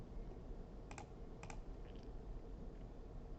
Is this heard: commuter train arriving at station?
no